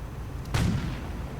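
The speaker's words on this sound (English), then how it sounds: "Anti-tank half-track firing away" A 37mm anti-tank half-track fires in a WW2 strategy game, one sharp broadband report about midway through, with a low boom trailing under a steady background of battle noise.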